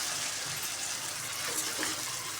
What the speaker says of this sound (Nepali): यसमा चाहिँ मैले पानी राख्नु पर्ने हुन्छ